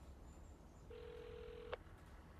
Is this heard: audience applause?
no